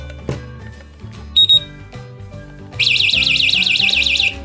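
A cheap earthquake alarm unit gives two quick high beeps, then breaks into a loud, rapidly warbling electronic siren that keeps going, heard over a low, busy background of tones.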